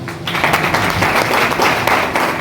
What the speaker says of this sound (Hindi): इस बहन के लिए तालियां बजाएं